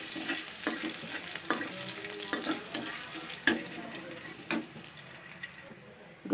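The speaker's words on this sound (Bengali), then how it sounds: "ভালো করে রসুনটাকে ভালো করে ভেজে নিলাম।" Chopped garlic fries in oil with black cumin seeds for a methi greens dish, a continuous close hiss punctuated by regular scraping stirs of a spatula.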